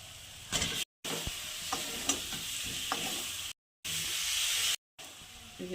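Fried pointed gourd pieces go into hot oil and spiced masala and are stirred: a loud, steady close sizzle with scraping, broken by a few brief silent gaps, and no voices.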